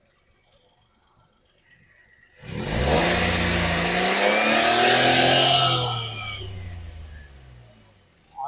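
A 2012 Maruti WagonR LXI running on CNG and petrol is revved. After a quiet start the engine climbs to a loud, sustained rev for about three seconds, then drops back to a softer idle.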